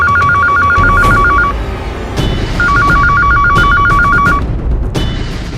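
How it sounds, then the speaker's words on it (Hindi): An electronic telephone bell rings loudly in two long warbling bursts separated by a short pause, with dull background noise and a few sharp clicks and knocks beneath. "किसका फोन था?"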